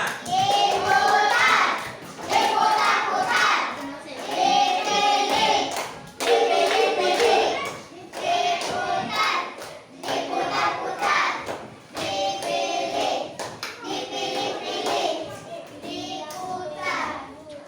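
Primary-school pupils in a classroom clap together in repeated short bursts to cheer on a classmate, with children's voices chattering between and over the applause.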